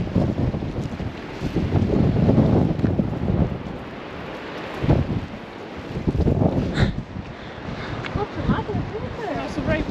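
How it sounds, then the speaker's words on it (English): Strong wind buffets the microphone on a walk at Winnats Pass near Castleton, Derbyshire, a loud roaring rumble that surges and eases in gusts, with voices faintly mixed in. "It's very windy, isn't it? It's hugely windy."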